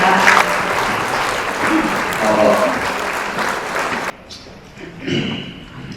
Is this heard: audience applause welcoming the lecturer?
yes